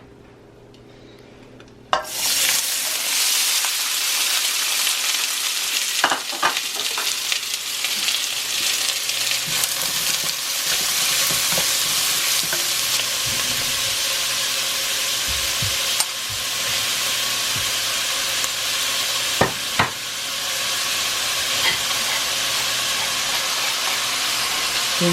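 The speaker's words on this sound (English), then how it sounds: "Heat the oil." Oil heating in a pan starts up with a sudden hiss that settles into a loud, steady sizzle, broken by occasional clinks and scrapes of a utensil against the pan, with no talking.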